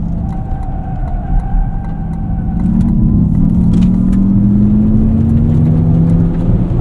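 A 2024 Acura ZDX Type S electric car under hard performance driving gives a steady, loud motor whir and road rumble that swells after a few seconds into a rising electric whine, with no talk.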